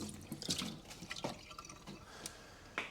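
Water drips and splashes after being poured to rinse spilt brake fluid off a 2008 VW Fox 1.2 petrol, a series of close, irregular drops and small trickles in a quiet workshop.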